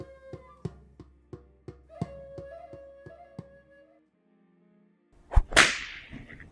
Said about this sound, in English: They ran cattle and used cow whips to keep them doggies moving.